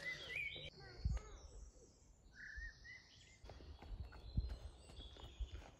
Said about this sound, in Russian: тут очень-очень громко поют птички